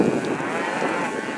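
A bred crossbred cow lets out one long, loud, low moo close by, with no other sound around it.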